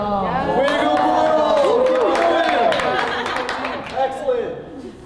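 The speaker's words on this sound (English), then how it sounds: "Wow, that's some good cheering." Teammates cheering and whooping at a team relay game, excited voices overlapping loudly and continuously, with chatter and laughter mixed in.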